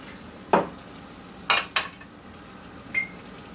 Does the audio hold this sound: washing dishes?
yes